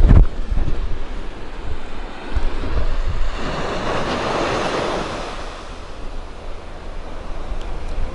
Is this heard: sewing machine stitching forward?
no